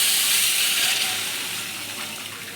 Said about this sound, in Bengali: এবার আমি এই মশলাটার মধ্যে জল দিয়ে দেবো।